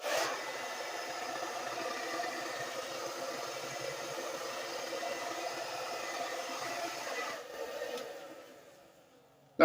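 A hair dryer blows steady hot air through a beard at medium heat, a loud continuous whoosh that stays level for most of the stretch before cutting off and fading out near the end.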